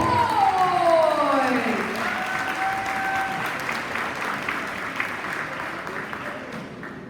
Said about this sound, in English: A big round of applause for your 2025 winning boys.